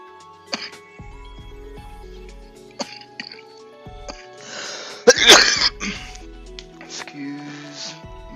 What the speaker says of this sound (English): Had a coughing fit there.